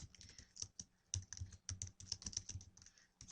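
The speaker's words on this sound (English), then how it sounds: "you can just start typing" Rapid clicking keystrokes on a computer keyboard, quick irregular taps close by at a soft level, no voices.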